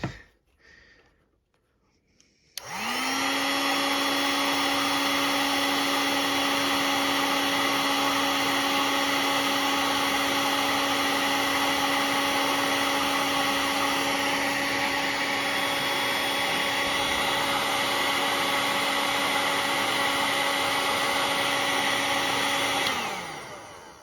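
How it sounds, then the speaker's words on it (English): A heat gun blows hot air onto electrical wiring during circuit repair, switching on after a short pause into a loud, steady whirring roar with a constant motor whine that holds for about twenty seconds, then cuts off. "Let me get the heat gun."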